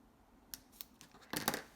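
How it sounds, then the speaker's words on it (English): Scissors snip through cardstock in a few quiet, separate cuts and then a quicker cluster of crisp snips, close and faint with nothing else around. "I'm going to take my scissors and I'm going to cut it."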